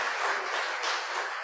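Audience applause at a welcoming for guests, a dense, steady wash of clapping that holds at an even level throughout the brief moment.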